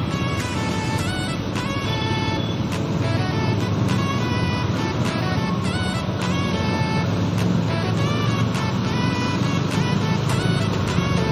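Heavy road traffic near the McKinley stoplight on C5 in Metro Manila, a steady loud drone of car and truck engines close by, with repeated short horn toots scattered throughout.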